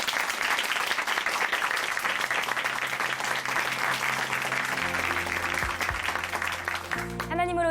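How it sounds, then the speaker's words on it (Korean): A church congregation applauds during a Korean Christian testimony broadcast, steady dense clapping filling most of the clip before music swells in near the end. "다시 한번 큰 박수 보내드릴게요."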